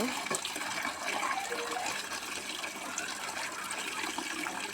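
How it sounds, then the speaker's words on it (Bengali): Water pours and splashes steadily into a container, a continuous close gushing sound at moderate volume, with no voices. "পানি ঢেলে নিব।"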